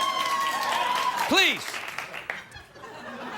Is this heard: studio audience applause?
yes